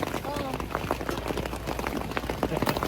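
Rain patters steadily on a surface close by, with a voice speaking briefly over the dripping.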